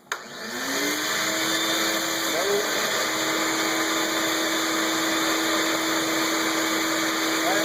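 Shop vacuum in a woodworking shop starts abruptly and then runs steadily with a loud, continuous whine and hiss, with no talking over it.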